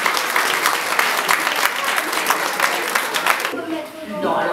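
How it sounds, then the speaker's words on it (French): A French audience at a Christmas show applauds the children with loud, sustained clapping lasting about three and a half seconds, then a voice speaks as it fades. "je voudrais qu'on les applaudisse ce soir."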